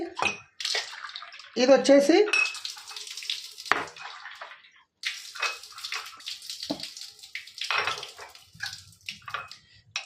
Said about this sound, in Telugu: ఫస్ట్ ఒకసారి నేను మిమ్మల్ని చూపిస్తాను ఒక్కొక్క వాటర్ నేను నింపి